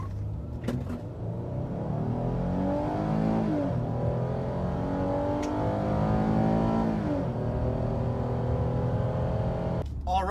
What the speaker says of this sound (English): now I'm gonna do a 0 to 60 pull with the camera pointed at the speedometer